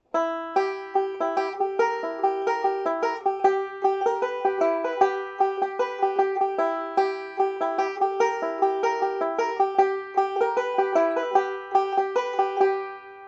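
A banjo plays a bright, rapid picked melody with steady plucked notes, alone and clear.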